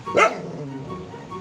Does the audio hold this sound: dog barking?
yes